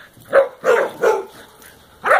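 A dog barks four times in close, loud bursts, the first three evenly spaced and the last after a short pause, with quiet gaps between.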